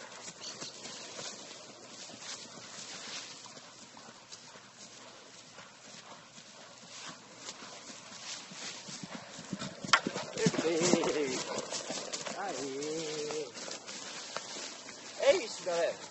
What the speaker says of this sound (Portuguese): É assim que tem um cavalo a saltar.